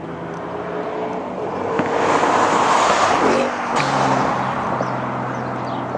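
An S550 Ford Mustang on a hot lap at Sandia Speedway, a loud steady engine drone inside the car that swells briefly in the middle and then settles.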